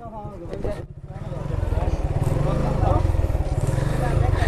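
A motorcycle crossing a rough road in Sylhet revs up after a brief dip, its close, throbbing engine running loud and steady, with someone talking over it.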